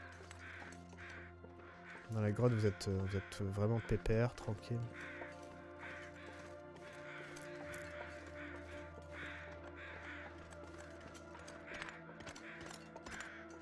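Crows near a wolf in The Long Dark caw in repeated harsh bursts through the wintry game ambience, while someone speaks French over them.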